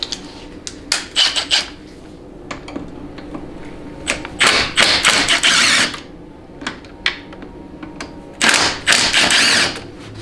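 Torx 30 bolts being removed from a Ford 6R140 transmission valve body, a 6.7L Powerstroke unit: close, intermittent bursts of ratcheting and metallic clicking, several separate spurts across the span with quieter handling noise in between.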